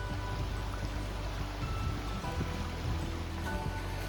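Creek water runs steadily beside a hiking trail near Seneca Creek in the Spruce Knob backcountry, a continuous close burble and rush of flowing water with no voices.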